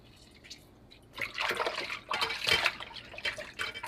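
Fish washed with fresh lime and water, giving close splashing, sloshing and trickling of water that swells after a quiet start and carries on unevenly, with no talking.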